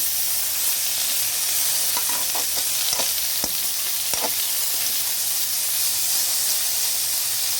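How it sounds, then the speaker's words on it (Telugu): Fenugreek leaves fry in hot oil in a pan for a methi chutney, giving a steady close sizzle and hiss with a few soft stirring scrapes partway through, and no voices. "ఈ మెంతం కూర కూడా దీంట్లో యాడ్ చేసుకోవాలి. ఇలాగా ఫ్రై చేసుకోవాలండి, ఇది ఆయిల్లోనే మగ్గాలి."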